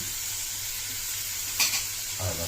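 Tomatoes fry in oil for a gongura chicken curry, giving a steady low sizzle with a brief stir and clatter of the pan near the end, with no talking.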